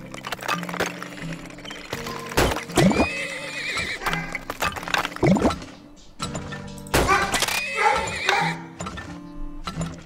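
Horses in the oil-drilling game Turmoil whinny several times in short, loud bursts, mixed with clip-clopping hooves and clunky game effects, with quiet gaps between the neighs.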